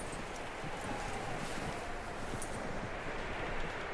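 Horse hooves clip-clop steadily under a constant wash of wind and ambient noise in the Western video game Red Dead Redemption 2, with the horse near but partly masked.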